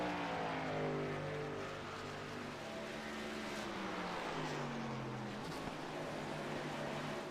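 Race truck at a Gateway Speedway Truck Series event, its engine droning with shifting harmonic tones that rise and dip as the throttle cuts on and off, continuous and fairly distant without talk.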